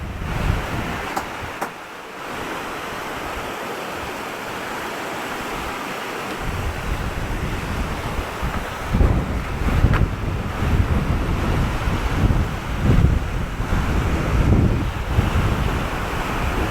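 Large sea waves pounding the shore during a typhoon, with strong gusting wind buffeting the microphone; a loud, continuous roar with heavier surges in the second half and no talking.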